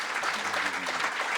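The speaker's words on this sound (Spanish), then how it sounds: "un último aplauso para los dos" An audience at a book launch applauds in a steady wash of clapping, with a faint voice briefly audible underneath.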